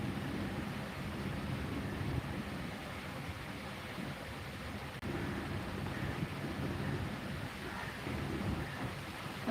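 Steady rain falls outdoors with a broad hiss and some wind buffeting the microphone, continuous and fairly close, with no voices heard.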